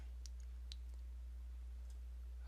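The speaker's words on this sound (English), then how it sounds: "I double click in here." A computer mouse gives a quick double click, two faint sharp ticks close together, then a softer click later, over a low steady hum.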